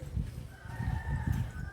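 Chickens clucking in short repeated bursts close by, with a faint steady tone running underneath.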